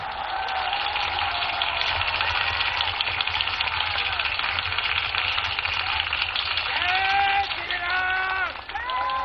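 A large crowd at a Vijaya Dashami celebration applauds and cheers as a ceremonial mace is presented to the Prime Minister. The dense, sustained roar runs throughout, with a voice and tonal sounds rising over it near the end.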